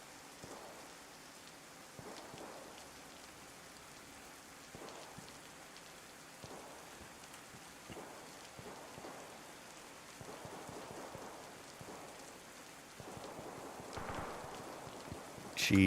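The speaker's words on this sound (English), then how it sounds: "it sure sounds like rain, doesn't it? They did good with the sound effects in this game" In-game rain from the video game DayZ patters steadily as a soft, even wash of droplets, with faint irregular taps and a few louder bursts of rain near the end, quiet overall and free of speech.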